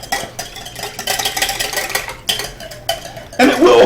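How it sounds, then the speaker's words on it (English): White wine vinegar and olive oil being whisked into a dressing in a bowl, producing bursts of rapid metallic scraping and clinking close up that stop and start, with a louder clatter at the end. "we're going to whisk this in"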